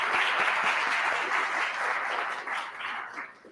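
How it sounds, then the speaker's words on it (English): A conference audience applauds a transportation department official, a continuous, moderately distant roll of clapping that tapers off toward the end. "Let's give Jack a round of applause as well."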